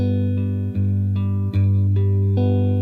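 A G bar chord is finger-picked on a guitar, individual notes ringing out in a slow, sustained sequence with a soft new pluck every half second or so, close and clear with no voice.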